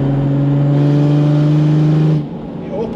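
A 500bhp OM606 diesel Nissan Patrol with a big turbo pulls hard, its loud droning engine note steady and close, then cutting off abruptly as the throttle lifts, heard from inside the cabin.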